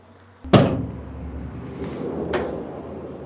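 A wide side door on a new Renault Master van is handled in two clear strokes: a loud slam or latch near the start, then a softer thud about two seconds later, each close by with no one talking.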